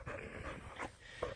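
A dog is out on a countryside walk, making faint panting and snuffling sounds with a soft whimper, heard over outdoor ambience.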